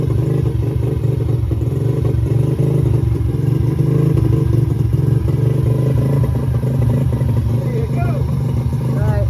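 A homebuilt dirt bike engine idles steadily with no throttle applied, a loud, close, low rumbling putter that stays even throughout, with a voice talking over it.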